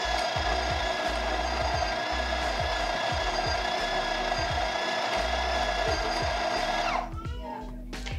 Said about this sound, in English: Just going to tap it and it's going to grind to the dose level you have it set at